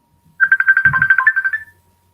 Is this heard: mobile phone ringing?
yes